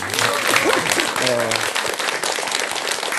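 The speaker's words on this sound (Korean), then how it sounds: "박수 한번 주시죠" Audience applause at a Korean mentoring talk by a university student, a short burst of dense clapping with a few voices mixed in.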